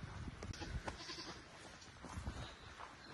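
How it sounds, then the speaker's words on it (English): A baby goat on a farm gives faint, short bleats among scattered rustling and shuffling, heard at a distance and quiet overall. "You find a baby goat?"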